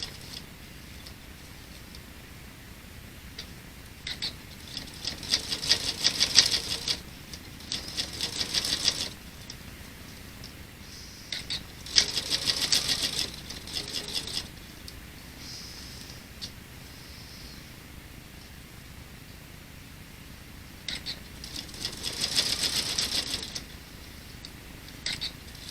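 A sewing machine runs straight stitches attaching bias binding to a pot holder, in three separate bursts of rapid mechanical chatter with quiet handling sounds between them.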